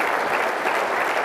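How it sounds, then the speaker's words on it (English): Audience applause at an Economic Club of Minnesota forum with presidential pollsters, a dense, even roar of many hands clapping throughout, loud and continuous. "So let's give our guests one more round of applause."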